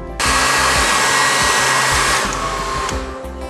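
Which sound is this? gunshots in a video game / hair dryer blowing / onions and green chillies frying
hair dryer blowing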